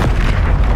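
A Bombarda explosion spell going off in Hogwarts Legacy, a single loud, deep, rumbling boom that fills the whole brief moment.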